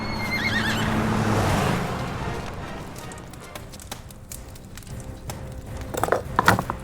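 A horse whinnies loudly for about two seconds, its high wavering cry fading out, followed by scattered clatters and knocks.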